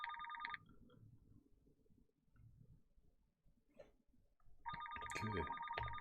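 A phone rings in two short electronic bursts separated by a few seconds of quiet, low shuffling noise. The second burst is louder and longer than the first.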